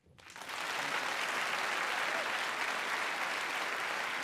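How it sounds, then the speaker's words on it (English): Applause swells quickly from silence into a full, steady round of clapping from a large debate audience. "All right, let's all clap."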